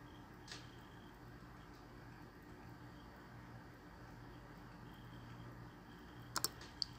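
A few faint, isolated computer mouse clicks sound while working in Revit design software, scattered sharp ticks over a quiet room hush.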